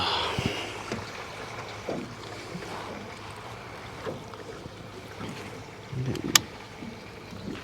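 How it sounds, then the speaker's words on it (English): Small fishing boat out on Lake Norman rocked by waves, with low wind-buffeted water noise, soft splashes and a sharper knock of water against the hull near the end; no talking. "Hit by some waves"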